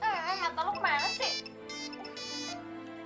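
A mobile phone ringtone plays a melodic electronic jingle with warbling tones that give way to steadier beeping notes, loud and close, while a voice speaks over the start.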